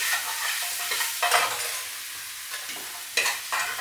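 Onions with garam masala stirred in a hot pan make a steady close sizzle, broken by a few louder scraping strokes of the spoon, with no talk.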